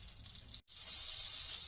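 Butter with a little oil heating in a pan for street-style tawa pulao gives a soft, steady sizzling hiss, broken by one brief silent gap, then resuming slightly stronger.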